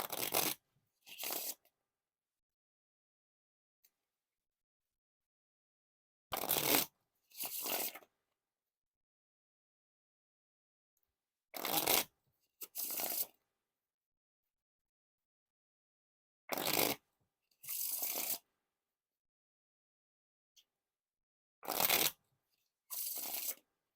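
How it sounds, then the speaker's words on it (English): Bicycle playing cards riffle shuffled in short paired bursts, a crisp fluttering rush followed by a quick bridge, repeated four times with silent pauses between. "Now for the riffle shuffle or bridge shuffle."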